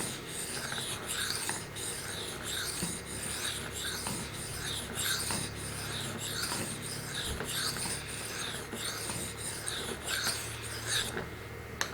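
Steady, even rasping strokes of a knife blade drawn across a whetstone, repeating in a continuous back-and-forth rhythm at close range with no talking.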